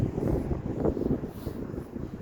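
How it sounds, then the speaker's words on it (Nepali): Strong wind blows across village farm fields in Shizuoka, Japan, buffeting the microphone with a steady, low, rumbling roar that keeps surging throughout. "आज हावा लास्टै लगाएको छ, नभएको कपाल पनि उडाएको छ"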